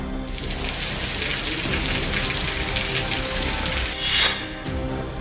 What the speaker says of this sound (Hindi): मॉनसून की पहली बारिश ने पूरे झारखंड को पानी से लबालब कर दिया है